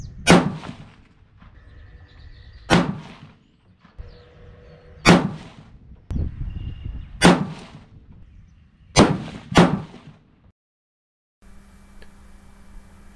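Six sharp 6.5 PRC rifle shots fired at steady intervals, each a loud crack with a brief echoing tail, from a five-shot group loaded with H1000 powder and 153gr Hornady A-Tips.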